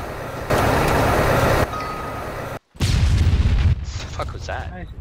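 Loud booming blasts from ArmA 3, a burst of noise cut by a brief silence, then a heavy rumbling explosion that fades, with chatter-like sounds after.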